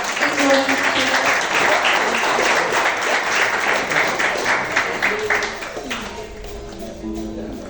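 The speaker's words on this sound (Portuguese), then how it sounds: "Vamos dar uma salva de palmas e receber o oceano de unção" A church congregation bursts into loud, sustained applause that fills the hall, then thins out toward the end as voices and a soft musical tone come in.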